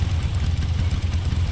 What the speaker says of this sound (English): Cut the engine. They'll hear us.